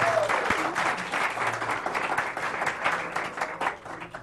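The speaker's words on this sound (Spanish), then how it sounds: "si me regalan un aplauso para ellos" Sustained applause from an audience at a talk, a steady dense wash of many hands clapping that holds at an even level for several seconds.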